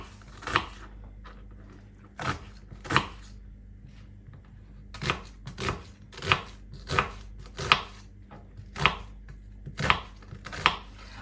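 A basic kitchen onion sliced with a knife on a board, about a dozen crisp, sharp chops in an uneven rhythm, close and distinct with no talking.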